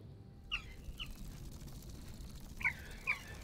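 Bird calls in Smalland, a few short chirps at about 0.5, 1.0, 2.7 and 3.1 seconds, over a low rumbling game background with no talk.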